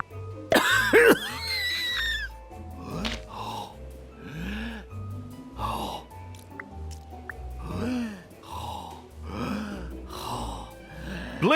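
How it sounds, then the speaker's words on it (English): Character in the game Manual Samuel coughing after breathing in water: a sharp gasping cough, then a long run of repeated raspy coughs and throat clearing in an uneven rhythm, loud and close. "He has to cough."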